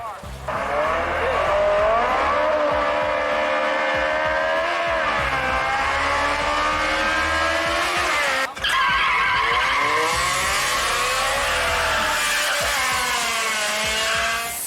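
Street racing cars at Glen Oaks squeal their tires in long, loud skids over steady engine noise, with a brief break midway before the screeching resumes; voices are faintly present under the din.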